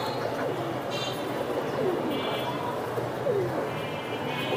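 Pigeons at a Giribaz pigeon sale coo in soft, repeated low calls amid a busy market bustle, with chirps and background voices throughout.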